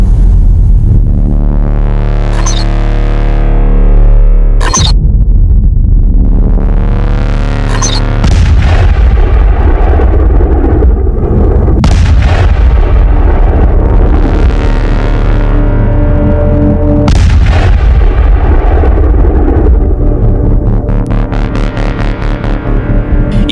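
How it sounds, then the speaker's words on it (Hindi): Several loud, deep booms from pressure cooker bombs go off one after another, each a heavy explosion followed by a long rumbling decay, with no talking. "ये दमदार धमाका प्रेशर कुकर बम का है।"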